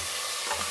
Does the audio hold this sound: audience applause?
no